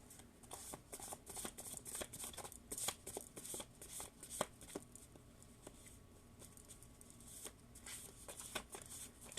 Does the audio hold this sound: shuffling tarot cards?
yes